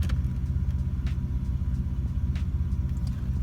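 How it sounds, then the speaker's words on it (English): A 2005–2009 Ford Mustang engine running steadily, a continuous low rumble close by with no talking. "Let the car run for a couple of seconds here."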